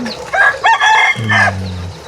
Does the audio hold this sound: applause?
no